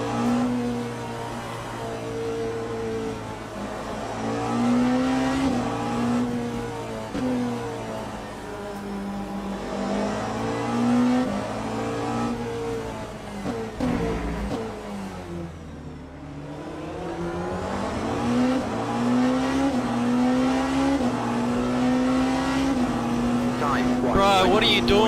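Porsche race car engine in a racing video game at Daytona, a loud continuous roar with rising and falling pitch as it revs, briefly dipping around the middle, with a voice talking over it throughout.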